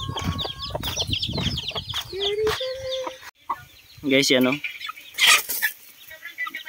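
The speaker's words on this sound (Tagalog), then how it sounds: "Yan yung kakaibang klaseng manok yan." Chickens of an unusual breed cluck and squawk on a farm, close by and at moderate loudness, in irregular bursts while a person talks over them.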